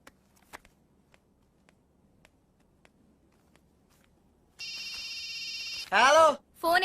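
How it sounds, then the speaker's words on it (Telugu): A telephone rings with a loud electronic warble in bursts after quiet footsteps and soft knocks, then a loud rising-falling ringtone sounds close by. "ఫోన్ ఎత్తానాలమ్మా."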